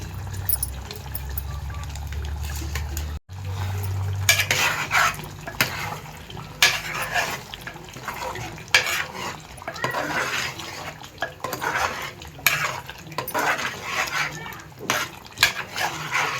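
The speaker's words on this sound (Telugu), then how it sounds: "చికెన్ మసాలా అయితే వేస్తున్నాను నేను" Chicken curry simmering in a pot while chicken masala is added and stirred, with a low steady hum at first, then bubbling and irregular scraping, clinking stir strokes throughout.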